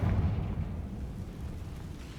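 A Confringo fire spell in the video game Hogwarts Legacy bursts into a deep explosive boom that opens loud and then rumbles on as a low, fading roar.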